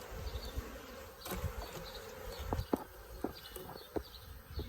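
Honeybee swarm that has settled into a hive box, a steady insect buzz hanging low in the background with light handling clatter and small knocks from the hive parts throughout.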